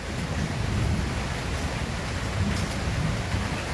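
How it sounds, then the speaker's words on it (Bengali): Light rain falls in a Bangladeshi village during the rainy season, a steady close hiss with a low rumble underneath that may be distant thunder. No one speaks. "দেখ আকাশে কেমন বিদ্যুৎ চমকাইতেছে রে শব্দ হইতেছে"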